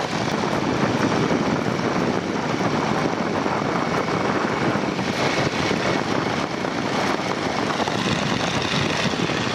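A 1941 Boeing Stearman biplane in flight, its radial engine and propeller making a loud, steady, unbroken drone that fills the cabin close up, with no voices over it.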